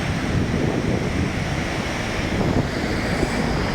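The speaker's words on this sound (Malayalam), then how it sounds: "പുഴ നിറഞ്ഞൊഴുകുന്നു, നല്ല കുത്തി ഒഴുകുന്നു വെള്ളം." Sindh river at Sonamarg in Kashmir running full and fast with snowmelt, a loud continuous roar of rushing water with wind buffeting the microphone throughout.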